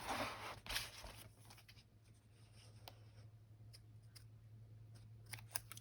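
Scissors trim a paper bag page in an altered book, giving a few quiet, close snips and paper rustles against a low steady hum.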